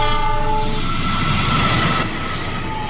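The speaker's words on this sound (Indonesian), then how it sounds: "ada suara klakson kereta api yang terlihat melintas dari kejauhan" A train rumbles past with a sustained horn blaring, steady and loud, the horn tones fading slightly toward the end.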